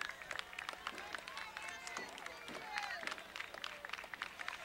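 Crowd along the street at a community day parade clapping for a passing senior citizens float, a steady dense patter of many hands mixed with scattered voices and cheers, moderately loud and continuous throughout.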